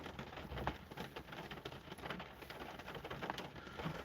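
Steady rain falls outdoors as a faint, even patter with occasional drips, with no voices present.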